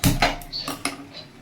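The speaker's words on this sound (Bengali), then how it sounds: "এখন ডালটা ঢেকে দিব, গ্যাসটা কমিয়ে দিব।" A metal lid clanks onto a pot of cooking dal on a gas stove, with a few sharp clinks and rattles in quick succession, close and fairly loud, settling after a second.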